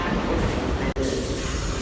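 A New York City subway train rumbles and rattles steadily along the track, a dense continuous roar with a brief dropout midway and no talking.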